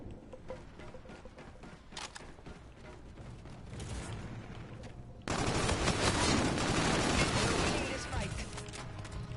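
Rapid automatic gunfire in the video game Call of Duty: Infinite Warfare, bursts cracking throughout and growing louder and denser midway, with a player talking over the shooting.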